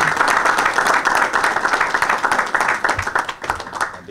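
Clapping from a crowd at a fire brigade's 70th anniversary ceremony, honoring a firefighter: a dense, steady patter of many hands, loud and close, holding for about four seconds before thinning slightly at the end.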